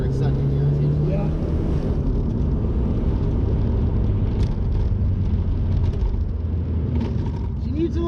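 A Ford Mustang SVO with its turbocharged 2300 engine pulls hard in second gear, a loud, steady engine drone with road and wind roar that fills the whole stretch without letting up.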